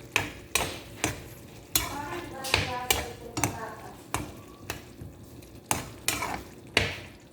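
Vegetables and a half cup of Almarai cooking cream being stirred in a pan for Arabic-style macarona, with repeated scraping strokes and soft sizzling at close range.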